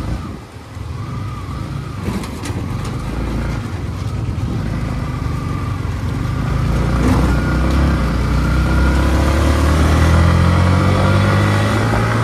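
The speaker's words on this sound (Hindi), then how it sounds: "गाड़ी आ रही है" A vehicle on a road in Jammu approaches during a motorcycle ride, its engine rising steadily and growing louder over a continuous rumble of wind and the rider's own motorcycle.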